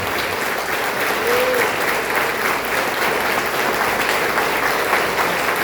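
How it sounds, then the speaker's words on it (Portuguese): Warm applause from a church congregation at an Assembleia de Deus service, loud, sustained clapping from a full room continuing steadily throughout. "dedique ao pastor Antônio Medeiros um caloroso aplauso"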